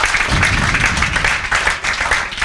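Loud, dense clapping from a classroom of students during a live IIT JEE crash course, continuous across the whole moment.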